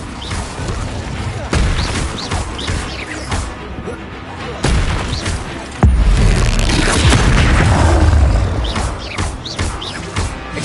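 Incendio fire spells in Hogwarts Legacy burst as repeated loud whooshing booms amid a chaotic spell battle, several sharp hits and a heavy surge near the end, with a voice occasionally underneath.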